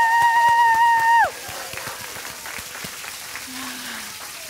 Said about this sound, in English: can we just get a quick round of applause for all our hope heroes?